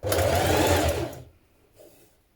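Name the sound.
sewing machine stitching a narrow hem on a dress ruffle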